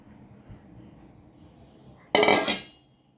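Chopped jackfruit tipped into hot ghee in a pan, a sudden loud sizzling burst with a metallic clatter that fades within half a second after a quiet stretch of faint kitchen noise.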